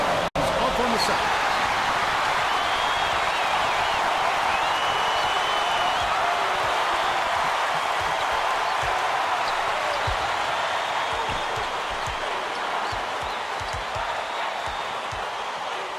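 A basketball arena crowd in the College Basketball 2K8 video game, a steady loud wash of cheering that fills the whole stretch and eases slightly toward the end, with a commentator talking over it and a ball bouncing.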